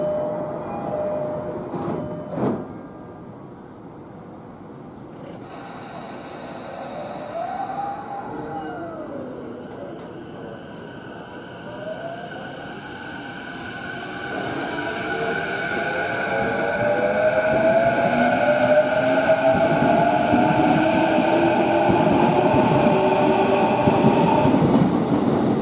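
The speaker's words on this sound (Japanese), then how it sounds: "5番線ドアが閉まります。" A JR Chuo Line train pulls away from platform 5 at Mitaka Station. Its motor whine rises steadily in pitch and grows louder over a rumbling background, with no voices.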